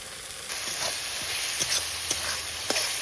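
Ground spices, salt, turmeric and chili powder fry and are stirred in a pan for a chitol fish and potato curry, giving a steady close sizzle with a few scraping stir strokes and no talking.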